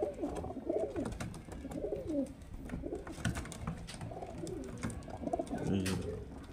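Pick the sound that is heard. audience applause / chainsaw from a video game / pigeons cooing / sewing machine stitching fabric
pigeons cooing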